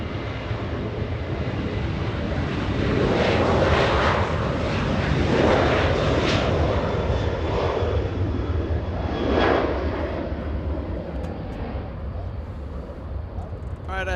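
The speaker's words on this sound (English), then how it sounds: "Delta 1622 flying to Seattle, Washington, a 737-800," A Delta Boeing 737-800 jet departing from Los Angeles International roars loudly and steadily, its engine noise swelling and then slowly fading, with a voice talking over it.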